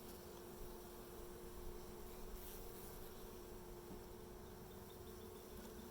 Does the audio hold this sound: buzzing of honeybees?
yes